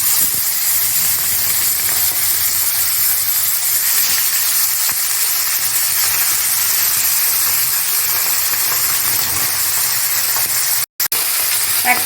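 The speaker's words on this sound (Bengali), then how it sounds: "তেল গরম হয়ে গেছে, এখন আমি মাছগুলোকে ভেজে নিচ্ছি।" Folui fish fry in hot mustard oil, a steady loud sizzling hiss that runs without a break for the whole stretch, broken only by a brief drop near the end.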